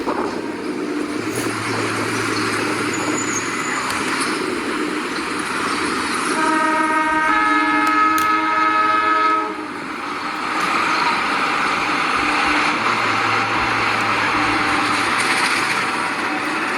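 A CC204 locomotive in the TrainWorks video game rumbles steadily along the rails, and midway its horn sounds one loud, sustained chord lasting about three seconds over the rolling noise.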